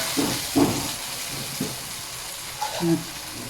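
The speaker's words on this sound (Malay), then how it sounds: "Tumis. Kecilkan api" Spice paste for nasi komok sautéing in a pan over low heat, a soft steady sizzle and hiss with a few brief louder crackles and clatters, no talk.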